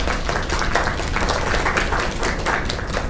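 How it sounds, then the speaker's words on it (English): A crowd gives a round of applause after a young singer's performance, steady dense clapping throughout, moderately loud and without talk. "Another round of applause."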